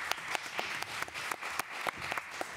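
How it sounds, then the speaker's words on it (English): Audience applause at a live creative-talk show, a dense clapping with sharp individual claps standing out, steady and fairly close for a few seconds, with no talking over it. "Applause for Lillian"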